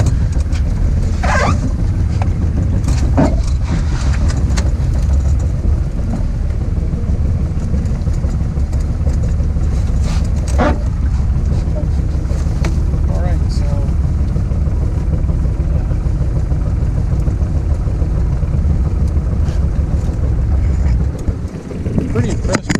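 A 2 hp Spirit outboard motor on an 18-foot Clipper canoe idles in a steady low drone, with wind buffeting the microphone and occasional knocks over the water.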